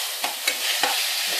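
Bacon frying in a pan for carbonara, a close, continuous sizzle with a few sharp crackles and pops breaking through, and no voices.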